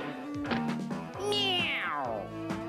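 A voice imitates a cat's drawn-out meow, one long rising-then-falling cry amid a few shorter vocal sounds.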